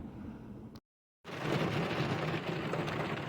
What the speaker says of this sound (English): It has been raining on and off since 4 a.m., at times pretty heavily.